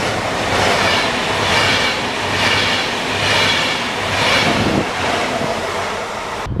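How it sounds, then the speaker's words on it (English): A train bound for Zurich in Switzerland rushes past with a loud, steady roar and rumble, rising and falling slightly in waves throughout, with no voices. "And another train going to Zurich."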